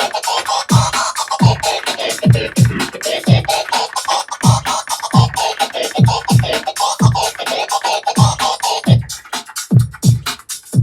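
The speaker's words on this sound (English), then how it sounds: "One is this thing called the Q scratch" A DJ plays a cue-button Q scratch in rhythm with the beat, short sharp cue hits chopping over a steady electronic track in a repeating pattern, loud and close.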